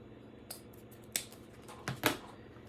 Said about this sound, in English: So now we're going to cut our ribbons